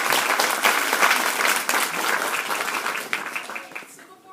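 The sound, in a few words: round of applause from a theatre audience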